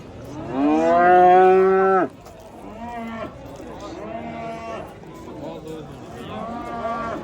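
Cattle at the Oltiariq livestock market, one loud close moo followed by softer lowing from other animals amid market background noise.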